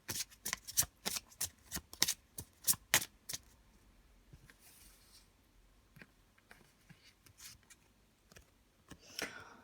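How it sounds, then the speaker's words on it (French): Tarot cards shuffled by hand in a quiet room, a fast run of crisp riffling slaps at the start, then softer scattered card rustles and taps, close and alone with no talk. "Je vais les rebattre, parce que j'ai les mêmes cartes qui ont tendance à sortir."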